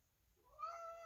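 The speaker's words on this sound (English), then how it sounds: "my cat decided to come in here" A house cat gives a single short meow that rises in the second half, close and clear over a quiet room.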